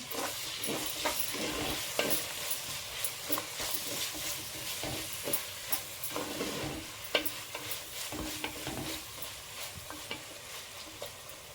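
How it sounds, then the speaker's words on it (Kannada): Chopped onions fry in a pan for egg curry and are stirred steadily, a constant close sizzle punctuated by frequent scraping and clinking strokes of the spatula, with no voices. "ಈಗ ನಾವು ಈರುಳ್ಳಿ ಕೂಡ ಸೇರಿಸ್ಕೊಳ್ಳೋಣ. ಚೆನ್ನಾಗಿ ಮಿಕ್ಸ್ ಮಾಡ್ಕೊಳ್ಳೋಣ."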